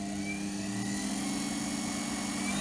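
A treadmill DC motor on a variable speed controller runs at full RPM, giving a steady, loud electric whine with an even hum throughout and no other sounds.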